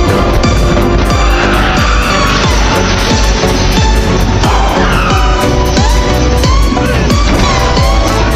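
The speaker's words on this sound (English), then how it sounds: "Drive the car straight into the home of Morning Coon" A car speeds and skids during a revenge scene in a movie, with loud, sustained tire squeals and a roaring engine. Repeated screeching slides run through the whole stretch at close range.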